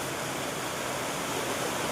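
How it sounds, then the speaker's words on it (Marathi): Heavy rain pours down during a May windstorm: a dense, unbroken hiss of water that stays loud and steady throughout, with no voices. "बाबा केवढा जोरात आला पाऊस"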